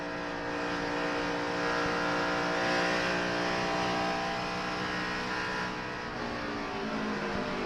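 In-car audio from a NASCAR race car at the 2006 3M Performance 400, the engine droning loud and close at high revs, holding a steady tone with a slight shift in pitch near the end, with no talk.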